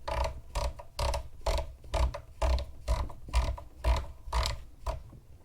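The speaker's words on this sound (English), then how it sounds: "So you can screw this down by hand, and then the spring will take hold of these tines" A rifle muzzle device on a Springfield Greek SAR-3/8 rifle is screwed down by hand, its spring catching the rear notches with a steady series of close, crisp ratcheting clicks, about two per second.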